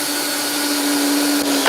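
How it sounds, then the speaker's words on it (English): An electric drill pre-drills holes in wood for a garden railway tunnel, a loud steady whirring drone with a constant pitch that barely varies before a slight change at the end. "I love pre-drilling."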